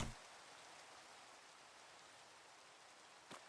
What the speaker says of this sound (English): this is actually kind of good that it's raining